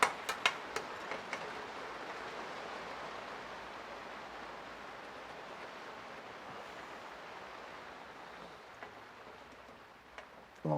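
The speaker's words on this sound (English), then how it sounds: "Pouring it down with rain now" Heavy rain pouring down outside a workshop during a BMW GS1150 motorcycle project, a soft steady hiss with a few sharp ticks at the start and a clunk near the end.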